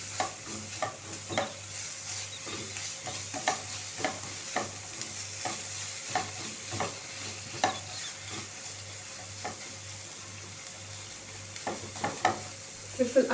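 Cumin and black pepper gently frying in a pan, a soft steady sizzle with repeated light stirring scrapes at an even rhythm, quiet and close over a low background hum.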